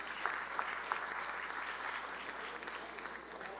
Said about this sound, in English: So how about another round of applause for Pete?